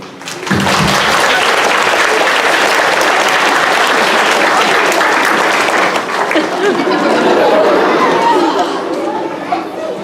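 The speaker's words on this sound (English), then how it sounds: "Please, can we have a huge round of applause for Arsenal captain Luke Morahan" Sustained applause from a school assembly audience, loud and dense for about ten seconds with a murmur of chatter mixed in, beginning abruptly and tapering slightly at the end.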